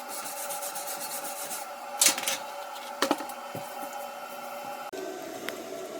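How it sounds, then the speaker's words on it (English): Steady scratchy rubbing of a wire brush on metal, with a few sharper scrapes and knocks mixed in, close up, while cleaning slag off a weld after hammering it off. "you just take a little hammer and you knock all the outer slag off of it and then brush it away"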